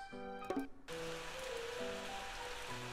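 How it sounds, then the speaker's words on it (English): Rain falls in a Plants vs Zombies mini-game as a soft, continuous hiss layered under bright game music tones, after a short plinking effect at the start. "It's raining, see?"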